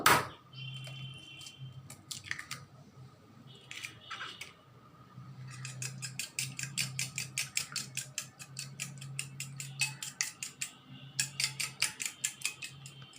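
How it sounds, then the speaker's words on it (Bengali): An egg is beaten in a bowl for a chicken tikia kebab, heard as rapid rhythmic clicking strokes in quick bursts with short pauses, close and fairly crisp, no talking. "এখানে একটা ডিম ফেটে নেব।"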